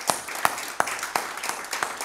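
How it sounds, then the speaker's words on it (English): A church congregation claps along at a Sunday service, with sharp hand claps landing in a steady rhythm about every third of a second, moderately close and alone, with no talking over them. "Give him a hand clap this morning."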